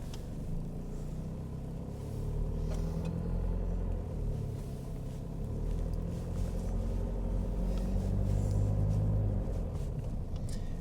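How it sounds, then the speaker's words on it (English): 1998 Toyota Hiace turbo diesel 4WD van, automatic with the 1KZ engine, driving along: a steady low engine rumble and road drone that rises slightly now and then, continuous and without voices. "These vans are real nice cruisers, especially in the automatic with the 1KZ."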